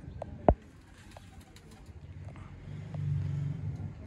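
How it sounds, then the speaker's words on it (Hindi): A Sialkoti shy pigeon, a pure-bred fancy bird, gives a few soft coos and wing or perch sounds close by, with one sharp sudden peak near the start over a quiet background. "सियालकोटी प्योर शर्मीला कबूतर"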